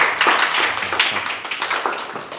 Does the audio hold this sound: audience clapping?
yes